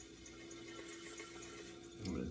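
Wet clay spinning on a potter's wheel while throwing an agate-ware vase from marbled clay with plenty of water, a soft steady watery hiss and slosh that swells into a louder wet rush near the end.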